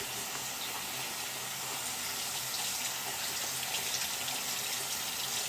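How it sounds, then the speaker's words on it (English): Tap water runs steadily into a bathroom sink while dentures and a brush are rinsed, a soft continuous hiss and splash at moderate distance. "Now we're going to rinse those and rinse the brush off."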